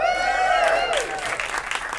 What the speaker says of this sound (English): I'll take the applause, but I don't deserve it.